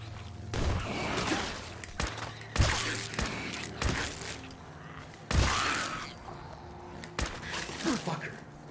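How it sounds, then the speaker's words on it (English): Gunfire in Fallout 4 VR cracks out in several sharp, separate shots spread across the stretch, fairly close, mixed with game clatter and a voice talking. "Who's shooting?"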